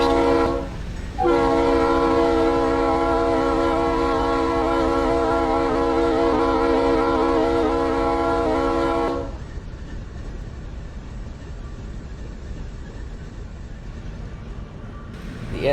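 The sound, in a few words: freight train passing, video game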